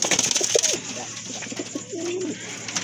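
A big pair of American Lakkha pigeons coo up close in a few short, throaty phrases, with a steady background hum.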